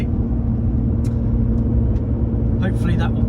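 A Lotus Evora 400 IPS with an automatic gearbox drives along, its steady engine and road rumble filling the clip, with a brief voice near the end.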